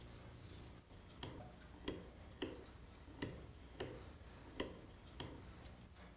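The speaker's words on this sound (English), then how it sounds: "I'm now using a medium grade ceramic stone, and I'll finish here on the white fine ceramic stone." A plane cutter being honed on a fine white ceramic sharpening stone makes a faint, rhythmic series of about nine rasping strokes, evenly spaced and close by, with no speech.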